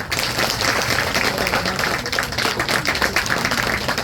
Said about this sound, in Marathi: यांच्याकरता जोरदार टाळ्या